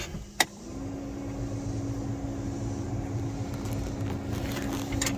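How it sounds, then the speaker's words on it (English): A car's cabin blower fan set to high runs as a steady, moderate whoosh with a constant low hum, after a brief click near the start, with no talking. "Turn on the blower here for him."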